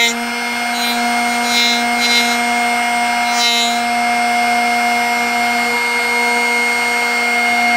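A Drill Doctor X750 sharpener grinds a drill bit with a loud, steady motor whine and grinding hum that runs continuously, with a few faint scraping touches of the bit against the wheel.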